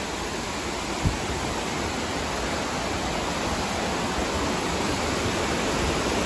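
Steady, loud rushing of Humpty Dumpty Waterfall in the rain fills the scene without a break, a dense broadband roar with one faint knock near the start.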